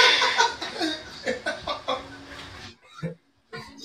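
A voice imitates a chicken clucking, a quick run of rhythmic clucks and chortles close to the mic, then a brief pause and another short vocal burst.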